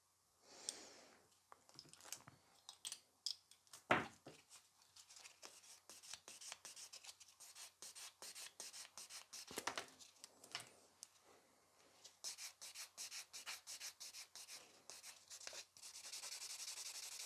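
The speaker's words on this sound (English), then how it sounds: "Buffing nails on a client," Nail buffer rubbing across a client's acrylic nails, a quiet dry scrubbing in short repeated strokes with brief pauses, one sharper tap partway through, close and soft with no talk.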